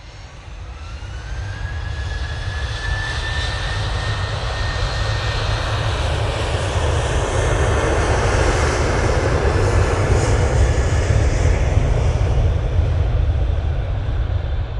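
Ryanair jet departing Manchester Airport for Palma de Mallorca, engine roar building steadily from moderate to loud and holding as a sustained whine and rumble, with no voices.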